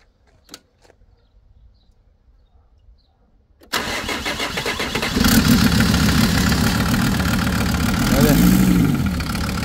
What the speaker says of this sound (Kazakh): Мынау 6 айдан бері оталдырамай Балқаштан эвакуатормен әкелген машинаны оталдырдық.